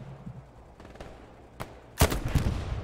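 A sniper rifle fires in a video game: a faint early crack, then a loud sharp shot near the end with a rough, rumbling tail, heard close with no talk.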